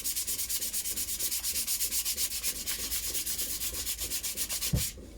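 A Milbro Diana series 70 model 77 air rifle is sanded by hand with sandpaper: fast, even back-and-forth scratchy strokes up close, with a short knock near the end and no talking.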